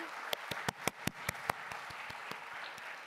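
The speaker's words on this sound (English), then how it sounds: "Une chaleureuse salve d'applaudissements," An audience at the UNESCO General Conference claps during a closing speech: a run of sharp, separate claps at first that settles into a softer, steady wash of applause.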